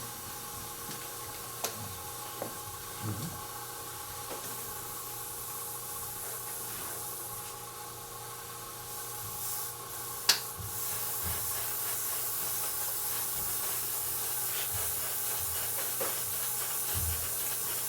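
An Infinity airbrush sprays at about 20 psi, giving a steady, faint hiss of air that runs throughout, broken by a few small clicks and taps nearby.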